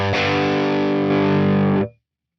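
Distorted electric guitar through an Axe-Fx III amp model with an extreme speaker impedance mismatch setting, one loud sustained chord ringing for nearly two seconds and then cut off abruptly into silence.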